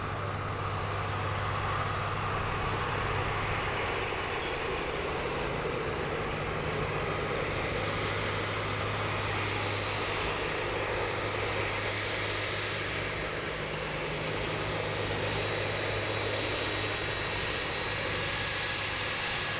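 Link Airways turboprop airliner departing Sydney Airport for Canberra, a steady broad engine and propeller roar held at a moderate distance throughout.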